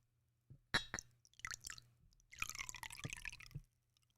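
Liquid is poured for a shot, giving quiet close trickles and drips in short bursts with a longer gurgling pour, and no voices.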